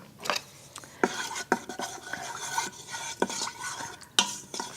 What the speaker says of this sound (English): Okay, so I added the garlic. And that's going to be sauteing.